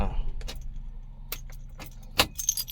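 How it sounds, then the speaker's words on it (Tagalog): Car keys jangle in the ignition as they are removed, with scattered metallic clinks and rattles over a quiet idling engine hum and faint voices. "bago natin tanggalin ang susi, bago i-off ang sasakyan"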